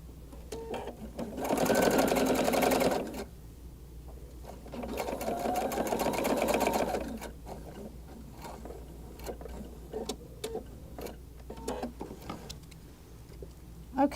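Sewing machine stitching shoulder seams on a cowl neck tank, with two clear bursts of steady motor whir and needle clatter, each a few seconds long, then quiet ticks and handling sounds.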